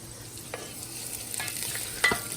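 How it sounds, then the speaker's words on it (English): Oil sizzles and crackles steadily in a pan while rosemary is added and stirred, with a few brief scraping clicks and one sharper clatter near the end. "I can hear the oil starting to sizzle, so I'm going to go ahead and add my rosemary in and give that a stir."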